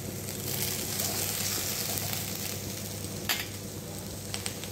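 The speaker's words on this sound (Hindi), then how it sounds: "भिंडी अच्छे तरीके से भून चुकी है और एक भी कढ़ाई में नहीं चिपकी है" Okra fries in a kadhai over medium heat while a spoon stirs it, a steady close sizzle with occasional soft scraping clicks, no voices.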